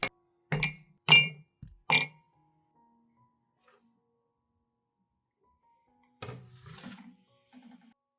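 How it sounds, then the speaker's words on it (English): Ice cubes drop into a cup one by one, four sharp glassy clinks in quick succession, then a pause and a softer rattling settle of ice, close and clear with no talk. "put 3 to 5 ice cubes into a cup like this"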